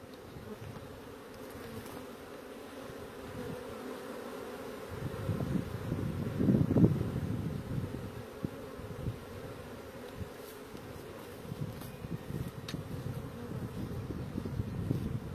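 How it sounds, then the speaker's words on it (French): A steady, dense buzz of many honeybees hums close by at the hive entrance, swelling briefly louder in the middle, with no voices. "Vous allez voir régulièrement des abeilles rentrer avec des points jaunes"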